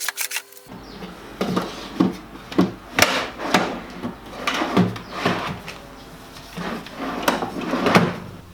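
Wooden drawers are slid and knocked into a workshop cabinet, a series of irregular wooden thumps, scrapes and clunks, close and moderately loud, with no talking.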